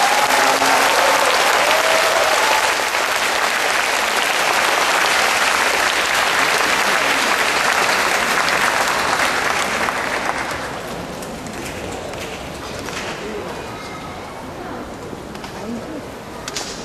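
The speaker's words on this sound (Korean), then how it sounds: "우리 힘차게 박수 한 번만 더 하시기 바랍니다." Loud, sustained audience applause at a Seongnam community club united orchestra concert fills about ten seconds, then eases into softer, thinner clapping with faint chatter.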